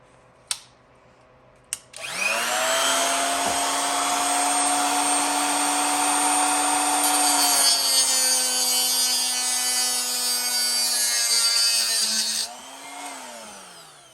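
A power tool whines steadily while cutting a piece for a DIY jon boat livewell cooler, a loud, close, sustained drone that starts after two sharp clicks, shifts pitch midway and winds down at the end.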